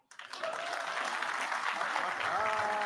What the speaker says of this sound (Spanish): pero aplauden igual